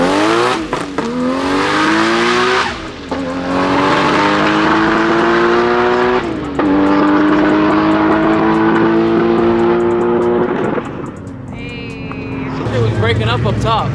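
A Nissan Skyline sedan on a drag racing pass at a GTR festival, its engine revving hard through several rising gear pulls with a sputtering, breaking-up note near the top, loud and sustained, then easing off.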